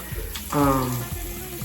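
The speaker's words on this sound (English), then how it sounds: "So right here you just see me wetting my hair with water at the sink." Tap water runs briefly at a bathroom sink as hair is wetted, a short splashing gush that rises and fades within about a second.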